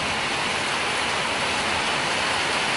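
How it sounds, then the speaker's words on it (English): Steady, dense rain pouring down, a constant wash of hiss with no pauses or voices. "the cold front comes in so the rain can come in"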